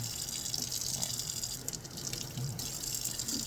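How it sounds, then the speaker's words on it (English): Water running steadily from a home faucet while a cat is bathed, a continuous hissing splash at moderate level with faint bumps and handling noises. "I know, this faucet doesn't really work well for this"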